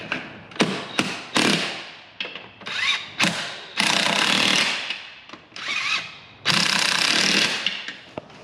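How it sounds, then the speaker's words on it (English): Repeated ratcheting clicks and bursts of a torque wrench tightening bolts on a Mercruiser TRS sterndrive being installed on a 1985 Formula 302 SR1 boat, close and loud, in short strokes with a few longer sustained runs. "I'll use a torque wrench for the rest of them."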